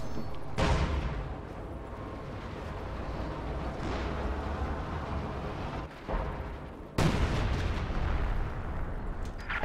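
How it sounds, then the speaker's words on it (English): An ML-20 howitzer bombardment in a video game: a dense, continuous roar of heavy blasts and rumble, with sharper loud impacts near the start and again about two-thirds through. "ML-20 bombarding this area, trying to apply pressure to this battle group headquarters"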